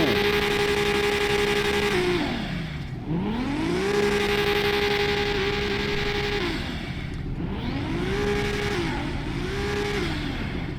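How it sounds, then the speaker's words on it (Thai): A loud Toyota Supra 2JZ engine revving repeatedly, rising to a high steady whine then dropping back, several times in succession, close by. "เดี๋ยวเรามาฟังเสียง รถ ซูป้ากันดีกว่านะครับว่าซูป้าเสียงเป็นไง"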